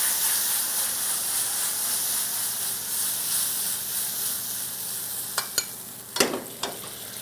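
Sauce heats in a pan while pan-roasted diver scallops are being cooked, giving a soft, steady sizzle and hiss, with a few sharper crackles and stirring scrapes near the end.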